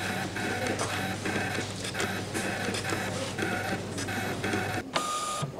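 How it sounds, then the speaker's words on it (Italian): A ScanNCut cutting machine cutting small heart-shaped paper boxes, a continuous whirring motor hum with rhythmic mechanical clicks and pulses, steady and close. "Mentre la ScanCut taglia le scatoline"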